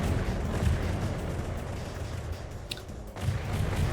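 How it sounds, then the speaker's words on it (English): A torpedo detonates against a target ship in the naval game From the Depths, a dense low rumbling blast with a sharper burst near the end, loud and close with no talking. "This explosion knocked it out of the water"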